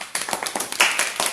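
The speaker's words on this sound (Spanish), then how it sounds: "Aplausos para el profe." Applause for a kenpo self-defense instructor after a talk, a small group clapping in quick uneven bursts, close and brisk for a moment.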